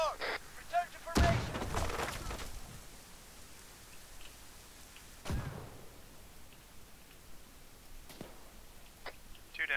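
Frag grenades go off during an Arma 3 firefight, with a heavy blast near the start followed by two more sharp detonations spaced several seconds apart. Steady hiss and faint voices sit underneath.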